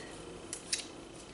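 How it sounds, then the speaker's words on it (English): Sewing scissors are handled among sewing supplies, giving two quick, faint metallic snips or clicks over a quiet background hiss, with no talk. "some scissors,"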